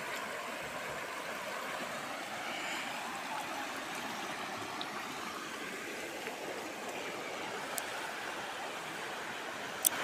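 Floodwater from the Itakhola river flowing along a flooded road near a community centre, a steady broadband rush and trickle that runs evenly throughout with no talk.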